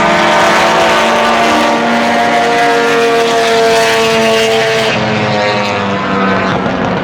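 Vintage race cars scream past on the track at Canadian Tire Motorsport Park, a loud sustained engine whine with rising and falling pitch as the cars pass close by.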